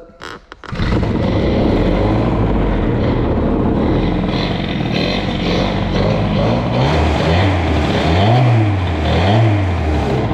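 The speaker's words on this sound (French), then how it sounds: "on va démarrer la petite babette" A small Doppler moped engine kicks into life after a brief clatter, then idles loud and close before being revved several times in rising and falling swells.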